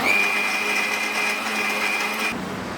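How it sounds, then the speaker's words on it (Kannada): A mixer grinder whirs loudly and steadily as it grinds fresh coriander leaves for a leaf curry, a high motor whine holding constant before cutting off abruptly near the end. "ಇದಕ್ಕೆ ಸ್ವಲ್ಪ ಕೊತ್ತಂಬರಿ ಸೊಪ್ಪನ್ನ ಸೇರಿಸ್ಕೊಂಡು ರುಬ್ಕೊಳ್ಳೋಣ"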